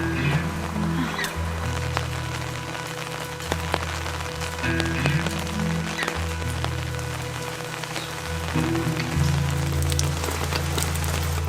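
Steady rain patters on a hard surface, a constant hiss with scattered drops and a low background hum, no voices.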